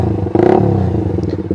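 A Suzuki GSX R150 motorcycle with a Proliner exhaust gives a short blip of the throttle, its loud, close exhaust note rising briefly before settling back to a pulsing idle.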